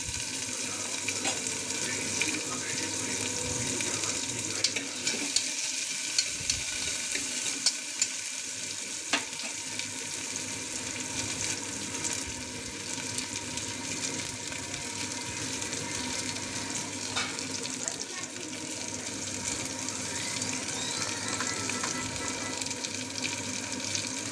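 Tomato and green chillies fry in a pan for a ridge gourd and chana dal curry. A dense, continuous sizzle runs throughout, with scattered scrapes and taps as a spoon stirs them close by. No voices are heard.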